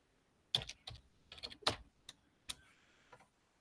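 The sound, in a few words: typing on a computer keyboard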